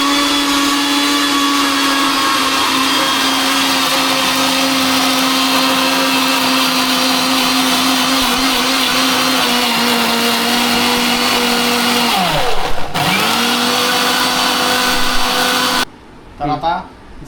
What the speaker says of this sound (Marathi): मिक्सरमध्ये हे वाटून घ्यायचं.